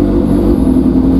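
A Kawasaki ZX636 motorcycle engine runs rough, firing on only two cylinders, giving a steady, close, low droning idle heard alone.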